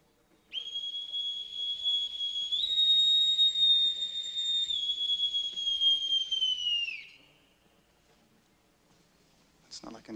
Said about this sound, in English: A boson's whistle.